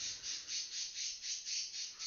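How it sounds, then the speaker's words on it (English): A pet bird squawks over and over in a steady run of about nine shrill, fairly close calls, each a short bright burst with no talking. "Shut up, bird."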